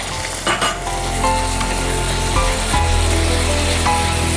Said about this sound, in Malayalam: അപ്പോൾ ഈ മസാലയുടെ ഒരു പച്ച ചുവ മാറണം, അതിന് വേണ്ടിയിട്ടാണ് നമ്മളിങ്ങനെ വഴറ്റുന്നത്.